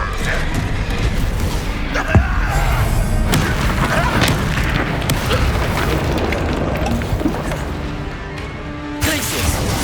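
Bombarda explosion spells in Hogwarts Legacy boom loudly in a dense, continuous barrage of blasts, crashes and rumbling impacts during spell-heavy combat.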